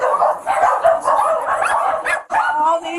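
Several dogs at an animal rescue barking and yipping continuously and loudly up close, a dense overlapping chorus with a brief gap near the end.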